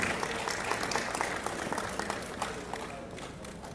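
An audience at an expo gives a speaker a round of applause, steady clapping from many hands that tapers off toward the end.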